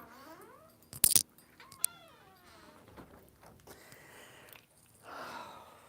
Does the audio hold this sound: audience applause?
no